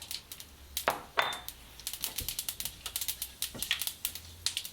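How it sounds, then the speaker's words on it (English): Mustard seeds crackle and pop in hot oil while making upma, a quick run of sharp, irregular close-up snaps and ticks, sparse at first and then denser, over a quiet background. "Once the seeds start crackling, I'm going to add in the cumin seeds."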